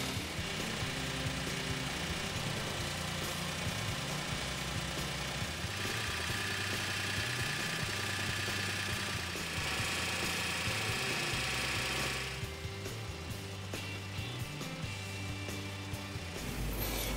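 A Toyota Wigo's engine idles steadily, a continuous low hum with a faint vibration throughout, heard close with no voices.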